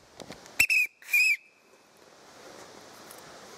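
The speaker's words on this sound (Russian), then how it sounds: "Вот видите, я свисток прикрепил. Иду, посвистываю вот в это дело." A whistle blown while hiking through the woods to scare off bears, two short shrill blasts close by in quick succession, followed by quiet outdoor ambience.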